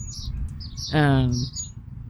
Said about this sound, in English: Featuring an American robin that's losing its ever-loving mind.